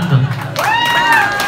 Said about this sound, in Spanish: ¿Y dónde está el aplauso para el niño Brian?